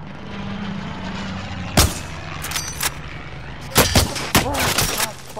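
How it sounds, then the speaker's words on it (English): A precision airstrike in a first-person shooter game lands as a string of sharp, loud blasts: one big hit, then a pause, then several close cracks and booms over a low battlefield rumble. "Be advised, friendly precision airstrike inbound."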